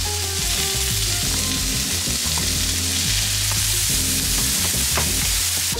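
Garlic and onions fry in butter over medium-high heat for a razor clam dish, giving a steady, loud, close sizzle broken by occasional stirring knocks, with no voices.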